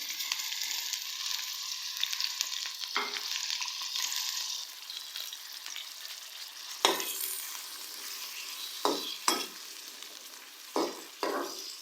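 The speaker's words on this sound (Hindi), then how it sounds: "ऑयल जो है हमारा गर्म हो गया है। अब हम इसमें ऐड कर देंगे 2 मीडियम साइज़ के प्याज" Two medium onions fry in hot oil with a loud, continuous sizzle, broken by several sharp clinks and scrapes as a utensil stirs them in the pan.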